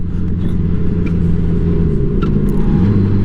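A 1984 Honda Gold Wing Aspencade motorcycle rumbles steadily while riding through winding turns, a continuous loud low engine drone with wind noise and no pauses.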